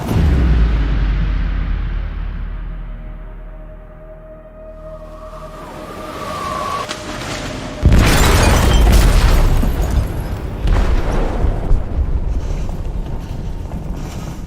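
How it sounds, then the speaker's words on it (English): Explosion deep in a ship's hold in Detroit: Become Human, with a rumbling low roar building, then a sudden heavy blast at about eight seconds followed by sustained loud rumbling and wind-like turbulence. "They detonated an explosive in the hold. The ship is sinking, sir."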